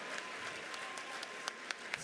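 Audience applause for a winning bidder at a charity auction gala, a steady wash of clapping from a large crowd with a few sharper claps standing out near the end.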